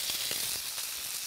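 Chicken skin sears on a barbecue grill, a soft, steady sizzling hiss with faint crackles throughout, quiet and without speech.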